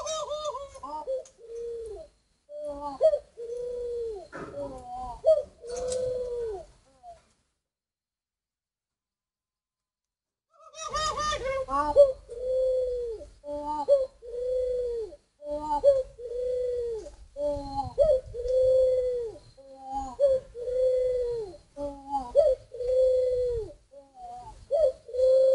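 Young spotted doves cooing at a bird breeding facility, repeated soft low coos in short rhythmic phrases, close and clear, with a silent gap partway through before the calls resume.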